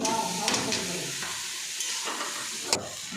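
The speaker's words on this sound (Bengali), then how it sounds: "আলু ডিম পেঁয়াজগুলো ভালোভাবে ভাজা হয়ে গেছে, এবার চাউমিনটা ঢেলে দেবো।" Chow mein with egg, potato and onion sizzles steadily in a hot pan, with a continuous frying hiss and occasional sharp scrapes and clinks of stirring.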